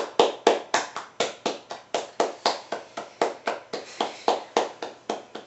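A single person claps alone in a steady, fairly quick rhythm of about twenty sharp, close claps, each with a short ringing decay, with no talk over it.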